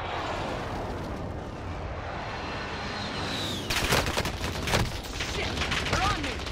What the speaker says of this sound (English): Ally in precision airstrike incoming.